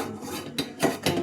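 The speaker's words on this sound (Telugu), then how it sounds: "అయ్యో ఇదేంటో గిన్నె ఆగట్లేదండి." A cooking pot wobbling unsteadily on a kitchen stove, giving a few sharp metallic clanks and scrapes in quick succession, close and fairly loud, with no voices.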